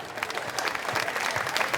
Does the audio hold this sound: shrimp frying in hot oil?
no